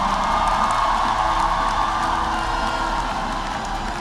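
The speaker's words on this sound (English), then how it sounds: "Ladies and gentlemen, I invite a round of applause for the candidates for master's degrees." Graduation crowd at a university commencement applauding and cheering for master's degree candidates, a steady dense wash of clapping and shouts filling a large hall throughout, with no breaks.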